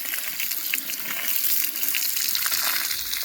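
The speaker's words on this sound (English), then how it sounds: "Then I try to water it so that the portion can soak the entire area" Water poured from a container onto a potted yellowing peppermint plant, a steady continuous splashing gush lasting throughout, close and fairly loud with no talking.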